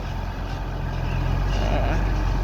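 A large truck reverses up close while loading soil, its engine a steady, loud, close rumble throughout.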